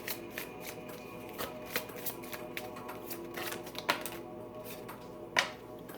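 A deck of oracle cards is shuffled by hand, producing soft, quick riffling flutters and light taps in an uneven rhythm, close and fairly quiet.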